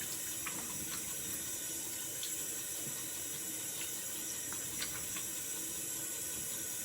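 Cold water runs steadily from a bathroom tap during a wet-shave rinse, a continuous close hiss and splash with faint drips and no talking.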